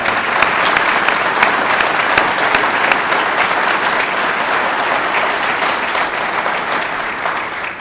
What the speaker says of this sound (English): give a huge round of applause for the work they've done